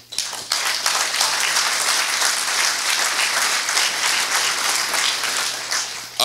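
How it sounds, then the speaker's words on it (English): A room full of people at a Rocky Mountain House public meeting applauds themselves near the close of a Q&A session. The clapping is dense and steady, close and loud, running the whole length with almost no talk. "give yourselves a round of applause for being out here tonight"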